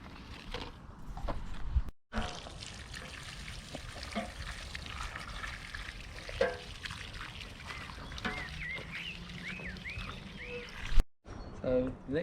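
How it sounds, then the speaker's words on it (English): Freshly planted plants on a UK allotment being watered, a running splash and trickle of water onto soil with some faint rustling, continuing at moderate level with brief breaks and outdoor noise. "We'll give those a good watering now."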